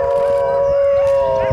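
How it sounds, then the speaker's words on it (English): A wolf gives a long, steady, loud howl, holding a sustained tone throughout with a slight waver, heard close and alone. "Wolf."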